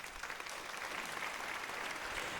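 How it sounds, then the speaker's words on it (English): Dense, steady applause from a crowd, loud and continuous for a couple of seconds with no voices over it. "I want to give a round of applause to Quentin Grimes"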